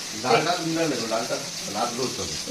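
Tomato frying in a pan gives a steady, soft sizzle that runs beneath close conversational talk throughout.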